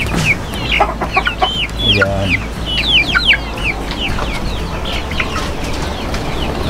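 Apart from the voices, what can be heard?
Rhode Island Red chickens clucking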